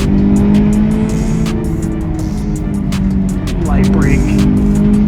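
A Subaru WRX STI brakes lightly and accelerates out, its engine droning steadily close by, with a rising rev and a brief tire squeal, while a person talks over it.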